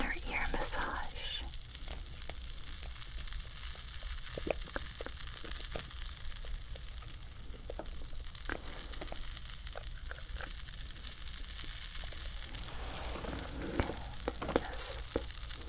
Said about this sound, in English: you're going to hear it sizzle, but it feels like a little inner ear massage